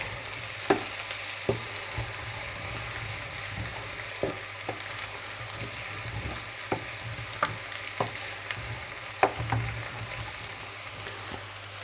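Corned beef hash sizzles steadily in a pan, a close, even frying crackle with soft periodic scrapes and taps as it is stirred, no voices over it.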